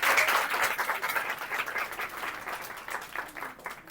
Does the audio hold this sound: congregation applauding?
yes